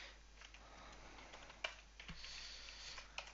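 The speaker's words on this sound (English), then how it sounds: "I'm not really used to this keyboard anymore." Quiet, uneven typing on a computer keyboard while coding a Java game, with soft key taps and a few sharper clicks spread across the clip, no talk.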